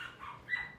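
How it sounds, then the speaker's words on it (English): Chihuahuas fighting give off short, high-pitched yips and whiny growling snarls, faint and brief, with one sharper yelp near the end. "my dogs are fighting. I have Chihuahua."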